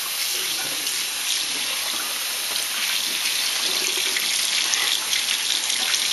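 A kitchen tap runs steadily over chili beans in a sink, a continuous close, loud hiss of flowing water with no break.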